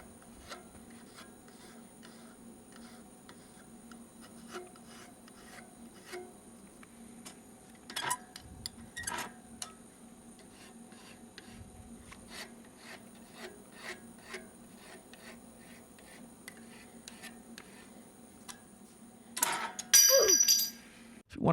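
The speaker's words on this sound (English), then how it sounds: "As a final step, file down any of the rough edges." A metal file rasping over rough edges in steady, faint strokes, with a few sharper clinks partway through and a louder scrape near the end; no one talks.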